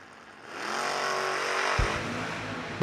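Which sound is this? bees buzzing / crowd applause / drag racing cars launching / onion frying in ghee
drag racing cars launching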